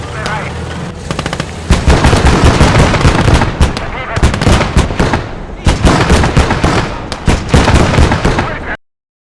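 A 3 cm MK 103 cannon on an armored vehicle in Gates of Hell fires loud, rapid bursts with echoing booms, several volleys in a row separated by short pauses.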